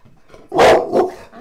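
A pet dog lets out two loud, close barks in quick succession, a heavy first bark followed by a shorter second one, against a quiet indoor background.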